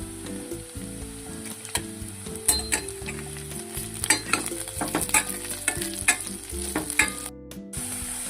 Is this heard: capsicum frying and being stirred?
yes